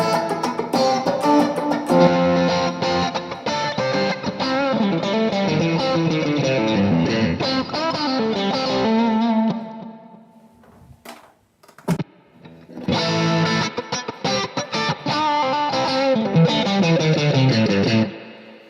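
Distorted electric guitar plays chords and riffs loudly through an AMPX amp modeler, breaks off briefly with a few clicks and thumps, then resumes playing.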